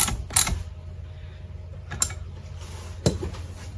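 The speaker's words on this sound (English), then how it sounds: "Take your 9/16. Tighten up your tilt bolt." Metal wrench clicks and creaks as a 9/16 wrench tightens the tilt bolt on a vintage Johnson outboard's tilt bracket, a few separate sharp ratcheting clunks spaced over quiet room tone.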